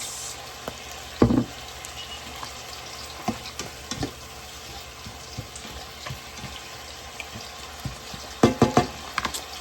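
Coconut milk with tilapia simmers and sizzles in a pan as fish sauce goes in, a steady low crackle broken by a few louder splashy pops and stirring clatters.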